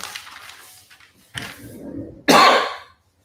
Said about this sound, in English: Man, I'm coughing.